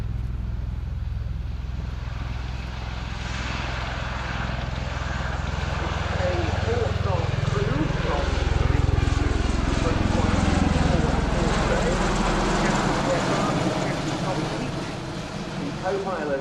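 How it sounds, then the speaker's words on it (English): A Bell-Boeing MV-22B Osprey tilt-rotor of the US Marines takes off at an air display at RIAT 2012, its deep rotor and engine roar loud and steady, swelling and shifting in pitch as it lifts and moves past. "those nacelles just tilting forward now to 80 degrees for the takeoff to begin the display routine"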